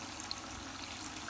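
Water poured into a pan of frying chicken with spices for a namkeen chicken dish, a steady soft trickling pour that runs faintly throughout, with no talking over it.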